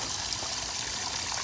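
Water being poured for French Bulldog puppies, a steady close rushing trickle running without pause and with no voices.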